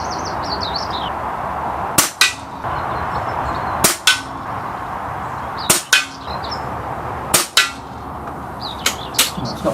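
An SMK XS78 air rifle fires five sharp, evenly spaced cracks at roughly two-second intervals, each followed by a brief metallic thud of the pellet striking a target 25 yards away, with birdsong chirping in the background.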